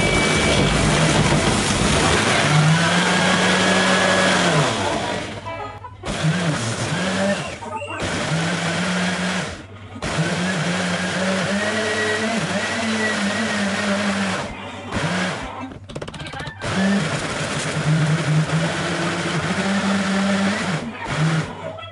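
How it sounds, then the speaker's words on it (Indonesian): A blender whirs loudly while blending sliced mango leaves with a little water, running in long bursts that briefly cut out and restart, the motor pitch dipping and rising as the mixture churns. "Untuk proses blendernya lebih gampang, daun mangga yang sudah kita iris-iris tadi, kemudian kita campur dengan sedikit air."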